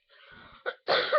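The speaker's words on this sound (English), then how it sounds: "Cough." A close, single person's cough comes in quick bursts, a soft throat rasp followed by two harsher hacks in under a second.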